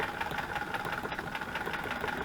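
A sewing machine stitches through fabric with a steady, rapid mechanical chatter and an even hum, close and moderately loud, with no voices.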